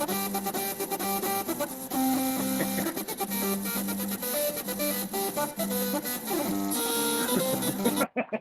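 A 3D printer with a 4028 cooling fan runs loudly and steadily, its stepper motors whining in shifting tones over the constant fan roar, until it cuts off abruptly at the end.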